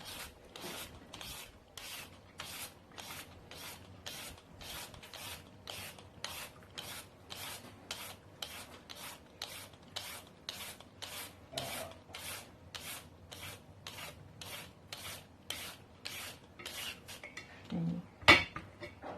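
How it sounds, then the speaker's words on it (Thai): A steady, even rhythm of repeated scraping strokes as sweet potato is grated by hand into thin shreds, with about thirty light rasps close up and no voices, ending with a louder knock. "ขูดเบาๆถ้าว่าเองขูดแรงมันจะเป็นสองเส้น ขูดมือเบาๆ"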